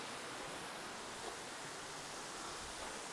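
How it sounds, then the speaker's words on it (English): Waterfall inside an ice cave, dropping roughly 100 feet on a freezing day, heard as a steady, even rushing roar, quiet and distant with no other sounds. "some beautiful waterfalls."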